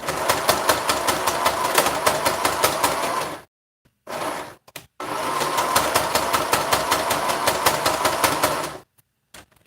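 A sewing machine runs in long, steady bursts while stitching fabric for a homemade face mask. The fast, even rhythm is loud and close, and it is interrupted by brief stops and one short restart.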